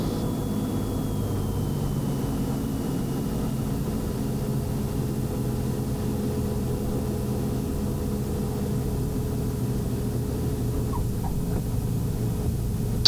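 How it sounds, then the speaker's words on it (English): A Cessna 210 lands in a crosswind, its engine and airframe producing a steady, loud droning hum with wind noise inside the cabin, constant throughout. "Smooth landing considering the crosswind"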